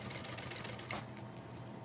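A sewing machine stitches a fabric bag with a zipper, a fast steady mechanical whirr of needle strokes running close and continuous throughout.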